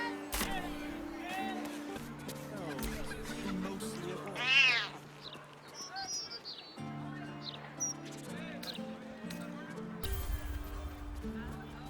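Several cat meows sound in Baldur's Gate 3, mostly soft and brief with one louder, longer yowl near the middle, all over a steady bed of gentle game music.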